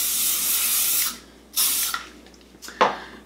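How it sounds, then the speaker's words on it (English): A long hiss from a spray bottle, then a short spritz and another quick burst, close and fairly loud, with no talking. "Okay, so I'm just gonna spray"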